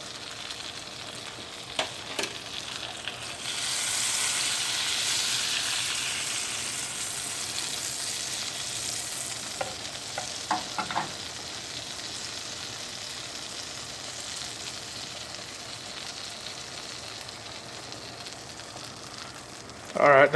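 Butter sizzles steadily in a frying pan while breakfast burrito fillings are cooked, a broad hissing wash with a few clicks and light scrapes of a spatula, close and moderately loud, swelling in the middle and softening slightly toward the end.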